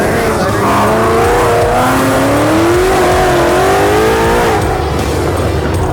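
A Ford Mustang S550 revs hard on an autocross course, the engine note climbing and wavering through gear changes, loud and close, with a voice talking faintly underneath.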